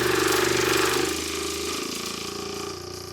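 A B2 Audio Rampage8 subwoofer plays a 20 Hz tone, a loud, constant deep throbbing drone with a rattling pulse that eases slightly in level partway through.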